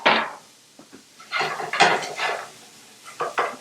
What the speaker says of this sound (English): So I'm going to start my onions so they can cook for a little while, get nice and soft and sweet.